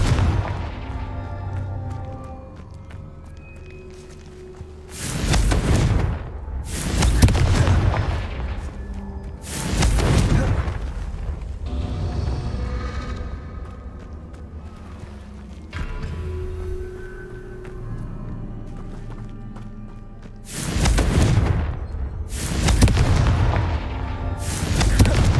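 Repeated Confringo spell explosions in Hogwarts Legacy, a magical blast game set during Merlin trials: loud booming bursts arrive in clusters of two or three, separated by quieter rumbling stretches, with no talk.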